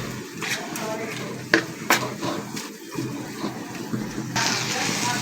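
Kolmi shak, water spinach, frying and being stirred in a pan: a soft, steady sizzle with a few sharp utensil clinks against the pan, a voice talking over it.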